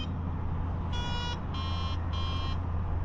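Three short electronic tones from a budget Kaiweets KGM01 metal detector sounding over iron targets, each about half a second long with brief gaps, steady and close over a continuous low background hum.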